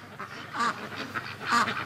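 Muscovy ducks let out a few soft quacks, two louder calls standing out among fainter ones, at moderate distance over a quiet background.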